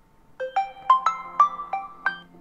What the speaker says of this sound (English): here's a ringtone